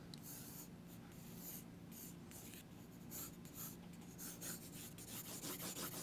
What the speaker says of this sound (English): It's just a great pencil to use for sketching.